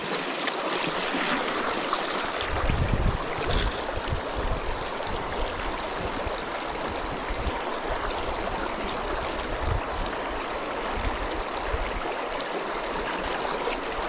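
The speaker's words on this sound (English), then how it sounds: "It's literally 4-foot ripply water." Shallow, rippling river water in a winter steelhead run, a steady broadband rush and burble that stays constant and fairly close throughout, with no talking over it.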